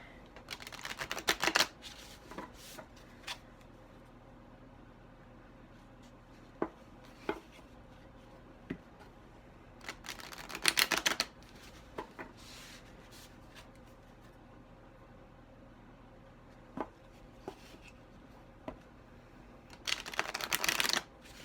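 Bursts of tarot card shuffling recur three times, each a second or two of riffling and flapping, with quiet taps and handling noises in between.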